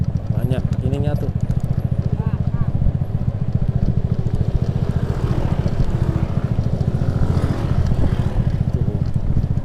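A motorcycle labors up a steep, potholed hill road on a solo tour, its engine chugging loud and close in a steady, rapid pulse while a rider talks over it.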